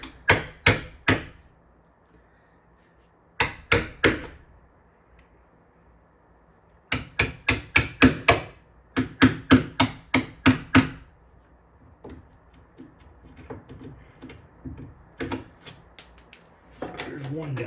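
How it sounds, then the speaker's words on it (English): Old staples are pried and knocked out of wooden furniture legs, giving clustered bursts of sharp, close metallic taps and clicks separated by short pauses. "I'm getting these staples out of here so that we can get those old ones out"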